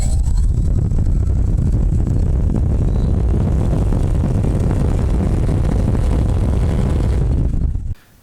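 A Radial 2218 1180kv brushless motor on a 3-cell battery spins an APC 10x5 propeller at full throttle, a loud, steady roaring whir with rushing air that holds for several seconds and then cuts off abruptly near the end.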